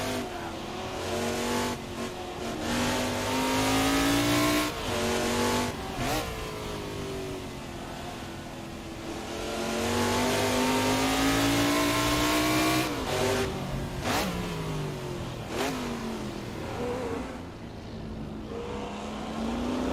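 Race cars chasing each other in the Assetto Corsa driving game, in a classic-versus-modern Trans Am battle, engines revving steadily and rising through gears with sharp shifts, loud and continuous throughout.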